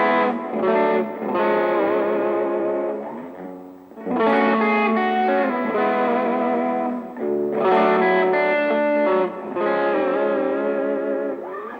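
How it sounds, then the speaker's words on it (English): Electric guitar through a crunch channel built on a Tube Screamer with a doubler, ringing mildly overdriven chords in three long phrases with short gaps between them, loud and wide with reverb. "we have the crunch channel, which is the tube screamer, pretty much on its own with the doubler"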